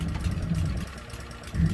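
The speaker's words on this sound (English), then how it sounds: "Pull the cord to start the engine." A plate compactor's small gas engine, pull-cord started, chugs and idles in a low, uneven rumble with a slight surge at the end.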